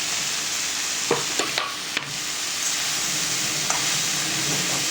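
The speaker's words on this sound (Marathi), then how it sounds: "इथे मी आता कांद्याची सगळी चिरलेली पात टाकून घेतली आहे." Chopped spring onion greens sizzle in hot oil in a kadai over high heat, a loud, dense, continuous hiss with a few sharp stirring knocks near the start.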